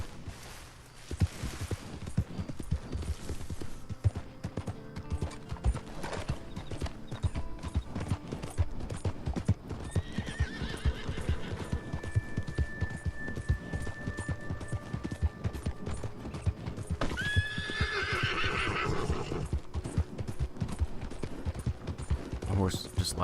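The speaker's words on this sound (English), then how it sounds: "The horse just laughed at that." Horse hooves clop steadily throughout in Red Dead Redemption 2, with a couple of whinnies rising near the middle and end, over game ambience and some voices.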